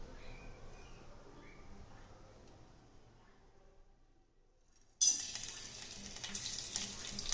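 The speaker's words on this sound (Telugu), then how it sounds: "తాలింపు గింజలను వేసేసుకున్నాం." Tempering seeds hit hot oil for rasam, and after about five seconds of near quiet a sudden loud, steady sizzle bursts out close by and keeps going.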